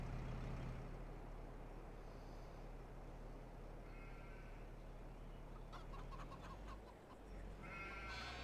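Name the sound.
chickens clucking in Farming Simulator 22 video game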